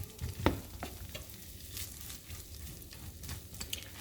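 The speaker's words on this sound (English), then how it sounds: "when you have rice and you put it in a pan of oil, it is likely to pop" Cold leftover rice frying and popping in an oiled steak pan, a steady close sizzle with stirring scrapes and a sharp pop near the start.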